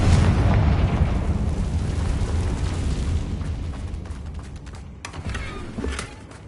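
The Confringo fire spell from Hogwarts Legacy detonates with a loud, deep rumbling blast that slowly decays over several seconds, followed by scattered crackling debris and faint pops.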